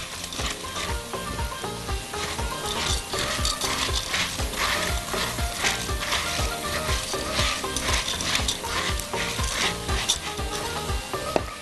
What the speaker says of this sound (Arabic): طبعا الدنيا هتكون سخنه، الحله سخنه، المكرونه سخنه، هينزل الثوم على طول هيتشوح ويبتدي يستوي معانا على طول